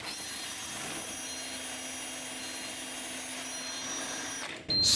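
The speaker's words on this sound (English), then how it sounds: "I'm going to use the drill at full speed." A steady high-pitched motor whine runs evenly for several seconds, like a drill spinning at full speed, then cuts off abruptly near the end.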